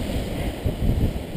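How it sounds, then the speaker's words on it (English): Strong wind buffets the microphone in a steady, low rumbling roar with gusty swells, loud and continuous across the whole moment, with no voices. "The wind's intense"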